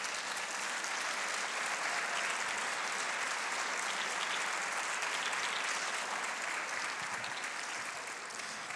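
Audience applause at Macaronight 2023 at the Poema del Mar aquarium: steady, dense clapping from a large crowd, sustained evenly for nearly nine seconds without speech over it.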